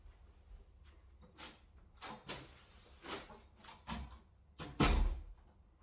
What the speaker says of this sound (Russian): О, стучат. Это принесли завтрак.